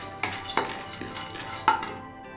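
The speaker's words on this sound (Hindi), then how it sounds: "बादाम, इसे भी 2 से 3 मिनट के लिए भूनना है।" Almonds roasting in a pan for rice flour pinni, with a few distinct scrapes and clinks of a spoon stirring over a soft, faint sizzle, close by and sparse.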